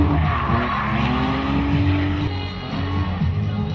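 A drift car skids through a turn during qualifying at the 2010 Drift Challenge in Osijek, its engine roaring and tires squealing in one loud, continuous sweep that dips briefly in the middle before surging again.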